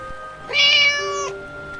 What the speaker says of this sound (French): le miaulement plaintif du chaton